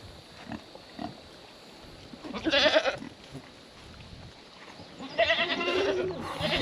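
Goats and pigs bleat and grunt close by in two noisy bursts, rough nasal calls over a low background of shuffling and faint movement.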